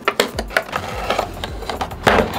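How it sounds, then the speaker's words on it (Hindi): Cardboard box of a Syska HT 450 titanium-coated trimmer being unboxed, with a quick series of sharp crinkles, taps and rustles of packaging handled up close, no talking. "इसको एक बार अनबॉक्स कर लेते हैं।"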